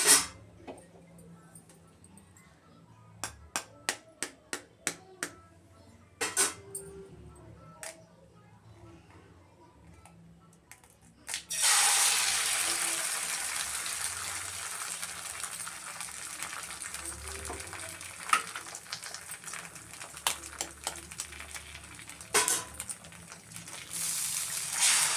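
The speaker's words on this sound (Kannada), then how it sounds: "ಈಗ ಸಿಮ್ಮಾಗಿ ಇಟ್ಕೊಂಡು 2 ಮೊಟ್ಟೆ ಹೊಡೆದಾಕ್ತೀನಿ." Two eggs cracked into a pan on a stove at low heat for an egg and potato dish: a run of sharp taps and clicks, then a loud, steady sizzle of frying that lasts to the end.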